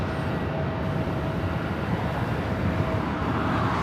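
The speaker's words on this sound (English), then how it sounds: "So it looks like Speedbird, the second 777 of the 777 flight of the day, heading to the south side" A British Airways Boeing 777 airliner arriving at LAX, a broad steady rumbling roar heard from a distance, continuous and unbroken, with no voices.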